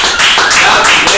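Loud, close clapping for the Peruvian national football team after the Copa América 2019 final against Brazil, a dense burst of hand claps lasting about a second alongside speech.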